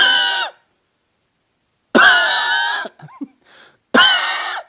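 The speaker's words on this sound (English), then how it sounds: "the worst, I don't know if you've experienced it, and I hope you never experienced it, called the Tren cough" Heavy, harsh coughing fit from a man, the so-called Tren cough: two long, loud hacking bursts separated by silence, with short gasping breaths between them and a third burst starting at the end.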